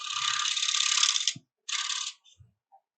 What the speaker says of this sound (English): So this scraper is going to do a better job of it than the gouge